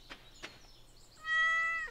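In the video game Stardew Valley, a farm cat gives a single short, clear meow after two soft tapping sounds, near and fairly quiet, with no talk.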